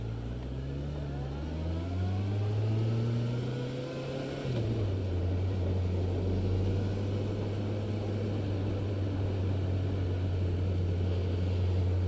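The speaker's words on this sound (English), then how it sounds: "Just waiting for the traffic to go past." Traffic passes on a wet road, a vehicle engine rising and then dropping in pitch as it goes by, followed by a steady loud drone and road noise that continue without any talk.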